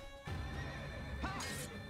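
A horse in the first Assassin's Creed, set in Damascus, lets out a sharp, close whinny after a brief thump. The call rises and wavers for about a second, and no talk is heard over it.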